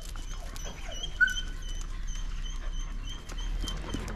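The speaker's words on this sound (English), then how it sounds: "And this dog's name is Little Black Dog." One of nearly thirty dogs living with a woman pants softly and lets out a short high whimper, heard close and alone.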